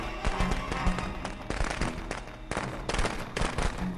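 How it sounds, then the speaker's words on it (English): Firecrackers going off in Friday the 13th: The Game, a rapid irregular string of sharp pops and cracks, near and fairly loud, with a few heavier bangs among them. "That's so cute to try to use a little fireworks on me."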